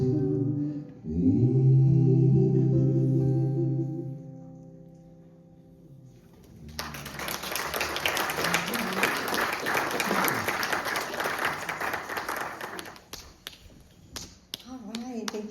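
A church congregation at a Sunday service breaks into loud, sustained applause after a sung or low-pitched tonal passage fades, the clapping building quickly and carrying on steadily for several seconds before trailing off.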